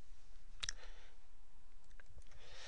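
A couple of sharp computer mouse clicks sound close and fairly soft, with a quiet room tone around them.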